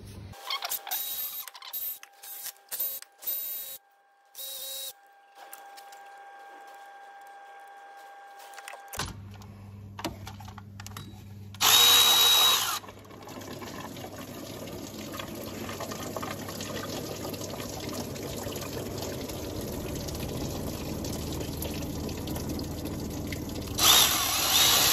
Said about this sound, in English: just undo all these 8mm that are holding the water pump on